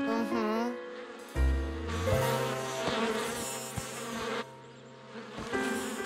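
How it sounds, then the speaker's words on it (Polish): Cartoon bees buzz from a disturbed hive nest, a busy insect drone running through the scene under background music and voices. "że nie tak się usuwa gniazdo pszczół."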